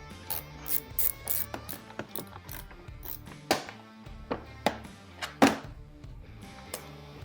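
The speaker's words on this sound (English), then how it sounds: "There's a couple screws to remove." Screws are backed out of a plastic side panel on a CFMOTO 800NK motorcycle, giving close, quiet ratcheting clicks and small thunks in an irregular run, with no talking.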